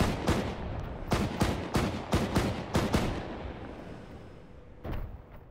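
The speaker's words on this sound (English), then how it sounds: "Still being shot at from the northeast." Rapid close gunfire from infantry in a war game, a rattling string of about eight sharp shots over three seconds, then a pause and one more burst.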